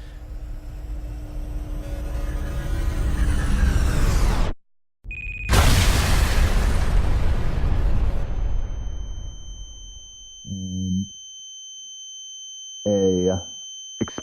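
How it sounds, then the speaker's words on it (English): A buried IED blowing up the earth near the town of Husaybah, heard as a long, loud roaring rumble that cuts out abruptly, returns, then decays, followed by high steady ringing tones and short pulsing bursts. "A explosion goes off."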